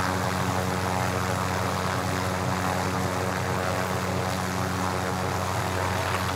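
Helicopter flying in the Call of Duty: Modern Warfare video game, a loud, steady rotor and engine drone with a constant hum that fills the whole stretch, no talking.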